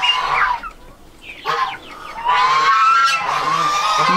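Orloff chickens cluck and squawk in a busy overlapping chorus, fairly close, with turkeys nearby and a high honking call rising near the end; no talking.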